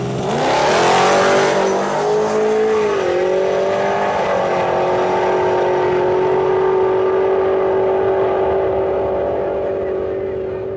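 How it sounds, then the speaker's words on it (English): A 9-second drag-racing Chevrolet Trailblazer SUV launches hard down the strip, its engine roaring loud and close through rapid gear changes before fading slightly as it pulls away. "So we flash back to October 6, 2013 to catch up with a 9-second Trailblazer."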